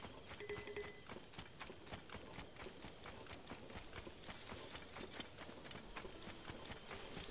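Horses' hooves clip-clop steadily in the video game Zelda Tears of the Kingdom, a quick, regular series of close hoof knocks, with a brief whinny and faint game chimes underneath.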